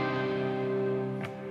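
Clean-toned lead guitar from the verse of a song, sustained ringing notes held quietly and evenly, with a brief brighter pick attack near the end.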